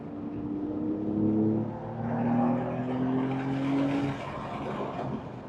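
A stock Porsche 992 Carrera T lapping a race track, its engine droning steadily with tones rising and falling through the revs, continuous and fairly loud, joined by faint tire noise.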